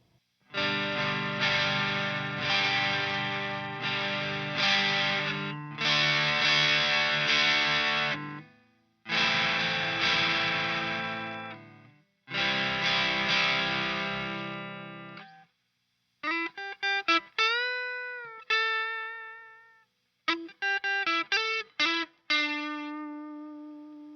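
Electric guitar played through a JHS Violet distortion pedal: heavy saturated chord strums in several long bursts, followed by a stretch of clipped lead notes with bends, loud and close with no talking.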